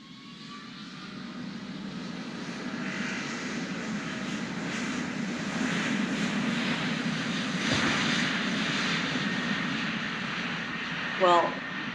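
An airplane in flight fills the space with a loud, steady engine roar that builds slightly and holds throughout, with a brief faint voice near the end.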